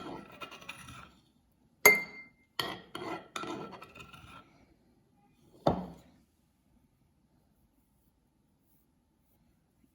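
Garlic crushed in a stone mortar is scraped into a pan for chilli oil: a short scrape, a sharp clink, a quick run of rasping knocks, then one last scrape before near silence.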